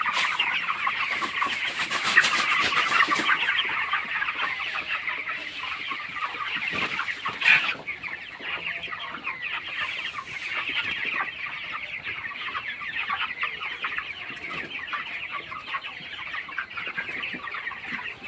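Broiler chickens cluck steadily throughout a poultry shed, a dense, continuous flock chatter with many overlapping calls, moderately loud and close, with a brief louder burst midway.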